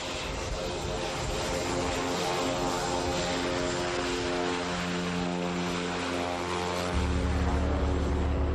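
A light propeller plane's engine drones loudly and steadily from inside the cabin before a parachute jump, with a deeper throttle surge near the end.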